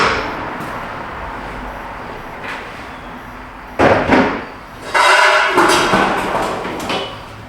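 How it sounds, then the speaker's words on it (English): A hammer taps an oxygen sensor socket while removing the sensor from a Hyundai Sonata in a garage: after a quieter stretch, a few sharp metallic knocks ring out close by, followed by a denser cluster of strikes. "It's still too snug. Let's get a hammer."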